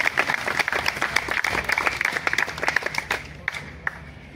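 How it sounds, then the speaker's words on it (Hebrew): A crowd claps at a live event, a burst of scattered hand claps that thins and fades toward the end, fairly close, with faint voices underneath. "מחיאות כפיים"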